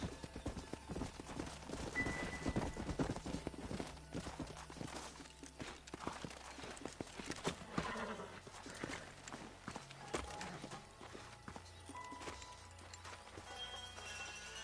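Horses clip-clop through a Red Dead Redemption game scene, the hoofbeats steady and close over a busy mix of ambient game sound, with occasional neighs.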